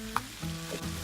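Spinach wilting down in a hot pan, a quiet steady sizzle with a faint soft clink near the start, short and close.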